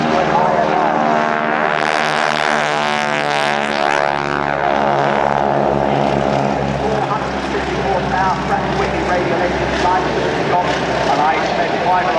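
Propeller aircraft of the Team Guinot wingwalking display flying past at the Bournemouth Airshow, a loud sustained engine drone with a rising and falling pitch sweep as it passes, under a commentator's voice.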